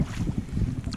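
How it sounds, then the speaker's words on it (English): Steady wind rushes over a lake in the Boundary Waters during a solo canoe trip, a loud, continuous low roar buffeting the microphone with no voices. "It's windy."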